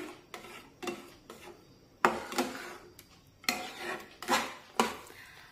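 Semolina and milk are stirred in a pan with repeated clinking scrapes of a spoon against metal, close and distinct, in uneven strokes.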